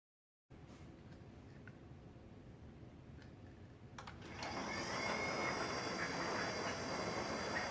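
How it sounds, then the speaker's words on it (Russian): A Nice RB600 sliding gate drive starts up after a moment of silence, a steady motor drone that grows louder and fuller partway through as the gate moves, with faint clicks and no talking. "Привод работает."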